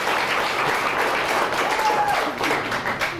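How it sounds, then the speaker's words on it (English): Steady audience applause at a College of Marin fine arts gallery opening of Richard Diebenkorn works on paper, dense clapping filling the room evenly throughout with a faint tone briefly audible. "That deserves a round of applause."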